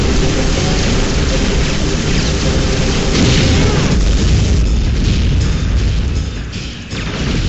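A vehicle blows up in Unreal Tournament 2004, a loud, dense, continuous roar of explosion and crashing debris that fills the whole stretch and eases slightly near the end.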